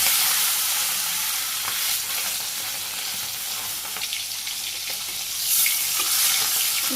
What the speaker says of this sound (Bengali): সেই জন্য আমি মাছের ভাজি আগে করে নিই